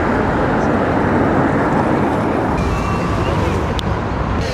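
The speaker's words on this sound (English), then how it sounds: "There's the bus. Off it goes with its load of passengers." A bus pulls away carrying passengers on a town street, a broad, steady rumble of engine and road noise close by, with a brief faint higher tone near the end.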